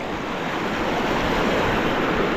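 The swollen Dumaca river rushes by at high water, a loud, dense, unbroken roar of churning current heard up close.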